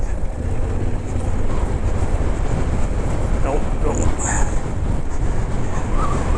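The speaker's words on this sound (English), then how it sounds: "The wind is getting a little colder and a little stronger all the time" Strong wind roars and buffets steadily up close while riding a motorcycle, a dense, unbroken rush with a low rumble underneath.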